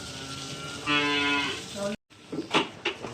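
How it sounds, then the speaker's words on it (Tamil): Cows at a Shiva temple, a herd of about twelve: one long, loud, sustained moo lasting about a second, then a short silence and some nearby rustling and knocking sounds. "அங்கே பார்த்தீங்கன்னா நிறைய மாடுகள் இருக்குது."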